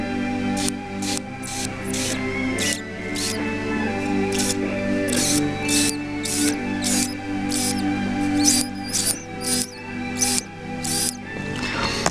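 A rapid series of sharp mechanical clicks from a fuel injector valve shutting off repeats at an irregular rhythm over a steady low mechanical hum, close and fairly loud.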